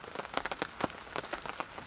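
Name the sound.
rain falling while camping under a tarp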